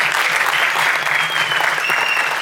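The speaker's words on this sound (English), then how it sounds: "I think we should clap for Bhushan as well, though he's not here today" Dense audience applause at a music launch event for a Bollywood song, a steady wash of many hands clapping throughout, loud and close, with no voices above it.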